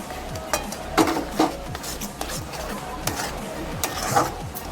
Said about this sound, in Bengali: পেস্টটা দেওয়ার পর মশলাটা দু তিন মিনিট ধরে কষিয়ে নিচ্ছি কষাতে কষাতে এখানে অ্যাড করে দিচ্ছি কেটে রাখা ক্যাপসিকাম